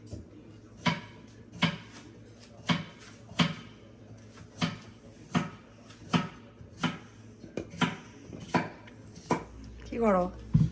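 Repeated knife chops on a board with clinks of kitchenware while salad is made in a home kitchen, about a dozen sharp, evenly spaced hits close by, with a brief rustle near the end.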